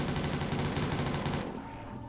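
Rapid automatic gunfire in a Call of Duty custom map: a dense, steady stream of shots lasting about a second and a half, then cutting off into quieter ambience.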